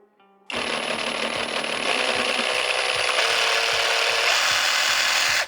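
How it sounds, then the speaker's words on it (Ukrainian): A Procraft cordless reciprocating saw cuts through wood, starting abruptly and keeping up a loud, close, rasping buzz with a rapid rhythmic stroke pulse until it stops at the end. "Регулювання швидкості ходу пилки йде від натискання на кнопку старта пуска."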